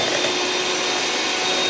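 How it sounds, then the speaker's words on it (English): A hand mixer runs steadily and close, whipping a small batch of egg whites in a bowl for coconut macaroons, giving a continuous whirring drone with no talk over it. "I'm gonna take this hand mixer."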